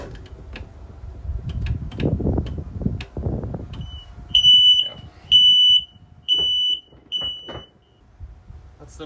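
A platform lift on a rise-and-fall workbench sounds a low-battery warning: four loud, high electronic beeps in a steady rhythm, each about half a second long. They follow rustling and handling noise, and someone speaks faintly in between.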